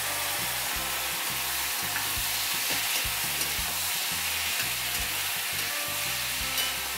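Chopped tomatoes fry in a hot pan with chili powder and spices while a spoon stirs them, giving a steady sizzle throughout with rhythmic scraping strokes near the microphone and no talk.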